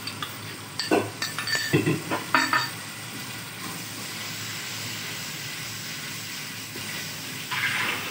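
Spoon stirring whisked yogurt into tomato masala in a pan for potato curry, with a steady sizzle underneath, a few clinks of utensil against metal near the start, and continuous soft frying.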